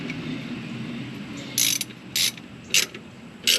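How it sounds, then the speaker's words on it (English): A 3/4 inch gear wrench ratcheting in four short bursts of rapid clicking, each under half a second, close and crisp over a steady low background hum, no talking. "So I just got me a 3/4 inch gear wrench to put on here."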